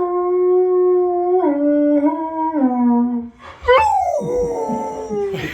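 A dog howls in response to a battle call: a long wavering howl that slides down in pitch, then rises into higher yips and whimpering cries, close and loud.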